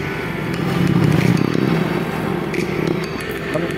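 Motorcycle engine running close by, a rough steady mechanical drone with some clatter and scraping that swells briefly before settling.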